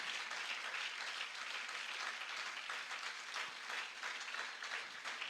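A church congregation applauds during a Sunday sermon, with a dense, steady clapping that carries on for the whole stretch at a moderate distance.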